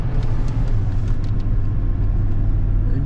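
A car engine runs steadily while being driven to bring it up to temperature after cooling-system work, making sure the thermostat opens. The low rumble is loud, close and continuous, with no talking.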